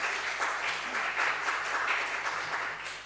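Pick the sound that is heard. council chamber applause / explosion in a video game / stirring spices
council chamber applause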